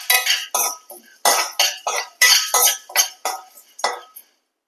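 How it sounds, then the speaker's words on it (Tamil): Three quarters of a cup of chana dal dry-roasted in a pan for idli podi: a spoon scrapes and stirs the dal in about a dozen short, rhythmic rattling strokes, close and clear, before it stops. "இப்போ 3/4 கப்பு கடலைப்பருப்பை நல்லா வறுத்துக்கலாம்."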